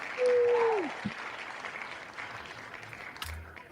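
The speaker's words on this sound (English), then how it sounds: "The cheering from the wheel is more satisfying than the cheering that we could probably muster up." Recorded cheering and applause from a game show prize wheel, a loud burst at the start that settles into a steady crowd roar, with a sliding electronic tone early on and a thump later.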